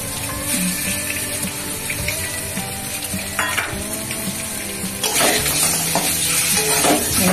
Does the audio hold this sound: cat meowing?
no